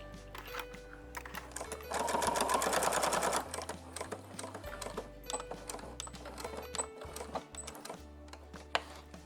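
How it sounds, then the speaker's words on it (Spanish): Sewing machine stitching a fabric seam on a DIY cosmetic bag with a brush holder, running steadily for a burst of a couple of seconds, close and fairly loud over a soft background bed, with quieter mechanical ticks before and after. "Apartamos un poquito la tela de esta forma y cosemos."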